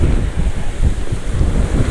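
Strong coastal wind roars and buffets a microphone outdoors by the shore. The rumble is loud, constant and gusty, with no voices over it.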